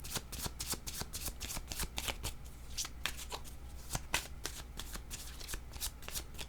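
Tarot cards being shuffled by hand, a steady run of quick papery riffles and flicks close up, continuing without a break and with no voices.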